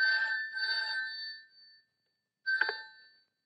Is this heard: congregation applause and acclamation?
no